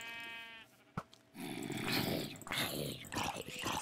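A sheep in a survival video game bleats loudly and close after a sharp click and a short tone, its wavering calls filling the last few seconds.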